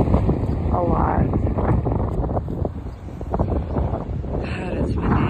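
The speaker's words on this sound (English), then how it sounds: "God, it's windy." Strong wind buffets the microphone on a Michigan horse farm during feeding time, a steady roaring gust that carries through the whole stretch with brief lulls, and faint voices occasionally under it.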